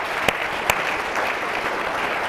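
Steady applause from a crowd fills the space, with a couple of sharper individual claps standing out near the start.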